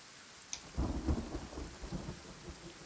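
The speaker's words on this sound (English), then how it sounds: "I do like the sound of thunder." Rain falls steadily in the video game Kenshi while rolling thunder rumbles close by, opening with a sharp crack and continuing in low booming waves through the rest of the clip.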